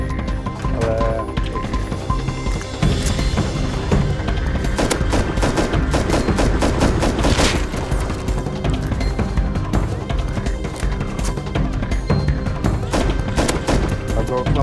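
Gunfire from the survival video game Rust on Hapis Island, sustained rapid automatic bursts and shots filling the whole stretch at close, loud level, with some mechanical clatter and a faint voice in the mix.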